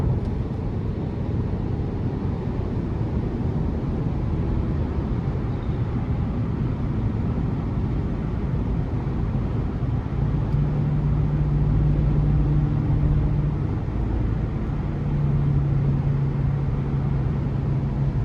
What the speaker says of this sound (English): And actually pretty quiet in the cabin, as I'm just cruising here at 65.